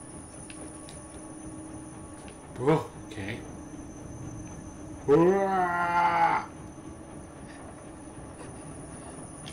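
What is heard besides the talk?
train passing in the video game INSIDE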